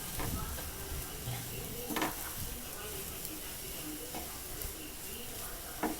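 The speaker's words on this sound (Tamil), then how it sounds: "கொஞ்சமாக மல்லித்தழை போட்டு சேர்த்து நல்லா கிளறி விட்டு ஒரு 1 நிமிஷம் இருக்கட்டும்." Prawn podimas with coriander leaves stirred in a pan, with a quiet steady sizzle and a few sharp spatula scrapes and clinks against the pan, fairly faint and without talk.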